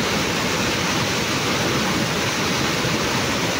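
Floodwater rushing down a swollen river in Santa Rosa, Laguna after four days of high water, a steady, dense roar with no break or pause, loud and close throughout.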